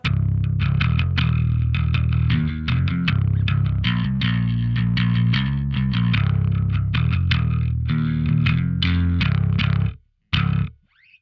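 Electric bass through a Darkglass preamp with light compression, a thicker, gritty overdriven tone, playing a continuous line of notes loudly for about ten seconds before stopping abruptly.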